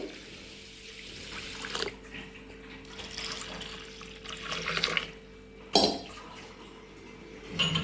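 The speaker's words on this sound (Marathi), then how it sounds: "त्यामध्ये आपण हे बुडेपर्यंत पाणी टाकायचं आहे" Water pours steadily over soaking rice and lentils in a container, a running, splashing flow at close range with a few louder gushes, and no talking.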